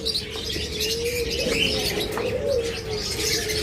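Caged pet birds in a shop or aviary, among them lovebirds, cockatiels, budgies and finches, give bright overlapping chirps and tweets over a steady low coo, lively and fairly close.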